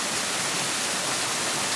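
A waterfall in Edinburgh roars in a steady, close, broadband rush of falling water with no other sounds.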